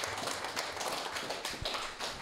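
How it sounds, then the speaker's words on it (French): A crowd applauds a volunteer team from Belgium at a French-language patient gathering on NMO and MOGAD, giving a steady, fairly quiet wash of many hands clapping throughout with no talk over it. "Je pense que vous pouvez les applaudir"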